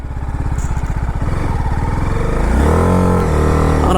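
A BMW G 310 RR sport motorcycle rolling slowly over a speed breaker, its single-cylinder engine thumping at low revs and then rising into a steady, louder drone as it pulls away, close up with no talk.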